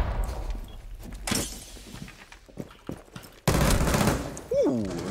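Gunfire in Rainbow Six Siege: scattered sharp shots and impacts at a moderate distance, then a louder burst near the end, with players talking over it.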